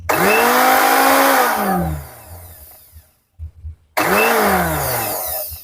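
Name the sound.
Philips blender motor spinning on speed setting 5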